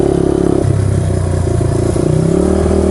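Honda XR200R motorcycle engine revved up for a clutch launch, a close, loud throbbing mid-pitched engine note climbing and holding revs, with no talk over it.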